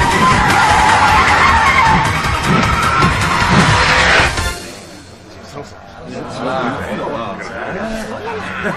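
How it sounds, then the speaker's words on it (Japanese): A fast Mitsubishi Lancer Evolution IV RS CN9A race car skids through a mountain hairpin with loud, sustained tyre screech and engine roar for about four seconds, then fades to quieter road noise beneath people talking. "すげえ早い車だ"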